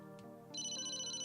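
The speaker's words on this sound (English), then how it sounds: "the phone's ringing" A phone rings in the video game Emio – The Smiling Man, a steady electronic ringtone trilling in a repeating pattern over a quiet background tone.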